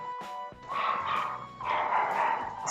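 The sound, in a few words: neighbour's dog barking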